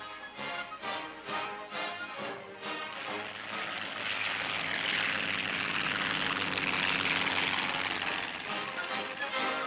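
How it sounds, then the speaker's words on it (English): A towing plane from 1942 wartime glider operations picks up a glider in flight without landing. Its loud, steady engine drone fills the whole stretch and grows slightly fuller toward the middle. "Here's how it's picked up without the towing plane having to land."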